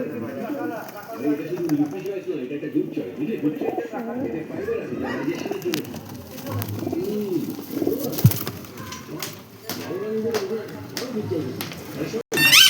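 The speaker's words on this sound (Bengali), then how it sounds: "এই দেখুন পায়রা" Caged pigeons coo in low, repeated rolling calls close by, while someone talks over them almost continuously and scattered bright clicks and knocks come from the cage.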